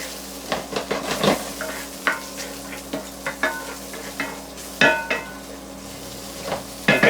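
Bacon renders in a pan in a home kitchen, a continuous sizzle broken by repeated scraping and stirring clatters of a utensil against the pan, close and fairly loud.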